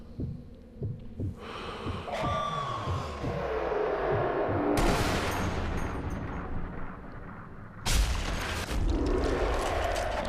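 Sniper rifle shots in the video game Sniper Elite V2: two loud, booming blasts a few seconds apart, each trailing into a long rumbling echo over a steady low game ambience.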